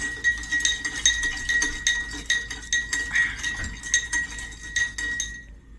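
About 100 grams of crushed ice is stirred in a glass of water with a metal spoon, producing rapid, rhythmic bright clinks and rattles against the glass, close and clear, with no voices.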